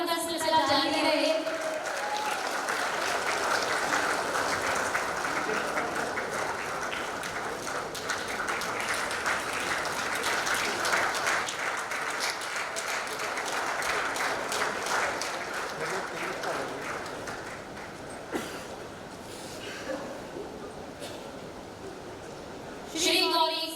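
Steady, moderately loud applause rolls through the Champions of Change Maharashtra 2023 award ceremony hall, with brief speech at the start and close.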